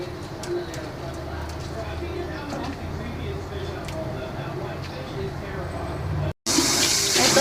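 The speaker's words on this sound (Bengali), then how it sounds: "শাকগুলিকে আমি ভালো করে ধুয়ে নেব" Water runs and splashes while fresh, tender leafy greens are washed in a home kitchen. The wet, uneven trickling sits under a voice, and near the end a brief gap gives way to a louder, brighter gush.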